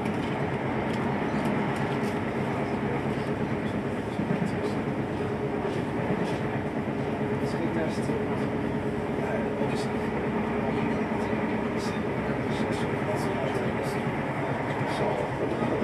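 Stagecoach-era East Midlands Trains service pulling out of Nottingham bound for London St Pancras, heard from on board as a steady continuous rumble of rolling wheels and carriage noise with faint clicks, constant loudness throughout.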